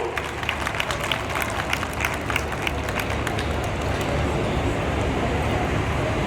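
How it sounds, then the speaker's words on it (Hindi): Crowd applause at an outdoor government rally in Mirzapur, a dense, steady wash of many hands clapping that carries on without a break, with a few sharper claps standing out near the start. "आप सभी की जोरदार तालियों की शुभकामनाएं मंच तक पहुंचनी चाहिए।"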